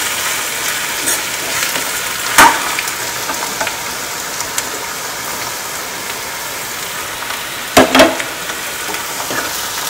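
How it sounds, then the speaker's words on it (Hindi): Okra and onions fry in a pan with a loud, steady sizzle. Two clattering stirs stand out, one early and one near the end, and softer scrapes fall in between. "थोड़ा थोड़ा भिंडी डाल के चलाएंगे।"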